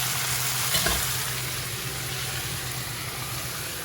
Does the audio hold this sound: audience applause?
no